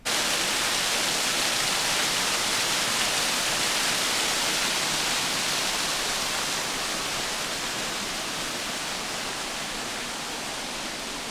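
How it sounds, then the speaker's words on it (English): A steady roaring rush of falling water from a waterfall at Dollywood fills everything, loud and unbroken from start to finish with no other sounds. "Just love the sound of waterfalls."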